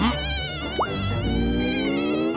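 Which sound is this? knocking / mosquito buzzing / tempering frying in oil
mosquito buzzing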